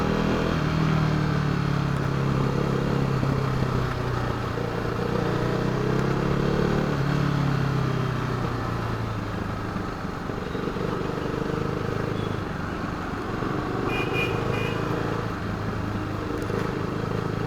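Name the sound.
KTM RC390 motorcycle riding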